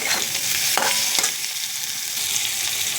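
Fried cauliflower goes into a pan of hot oil for sago khichdi, giving a close, steady sizzle with a few sharp clinks and scrapes of stirring.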